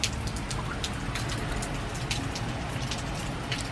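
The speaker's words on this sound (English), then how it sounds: "Look how rainy it is, guys." Steady rain falls outdoors on a wet day, a dense constant patter of drops hitting surfaces nearby, with no voices over it.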